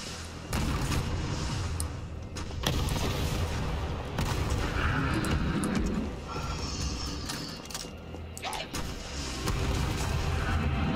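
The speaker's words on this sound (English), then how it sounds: "Now a Gatling gun. Rocket launcher? Really?" Rapid Gatling gun bursts and booming rocket launcher blasts from the Resident Evil 3 Remake game, dense and continuous for the whole stretch with heavy low rumble and sharp repeated cracks.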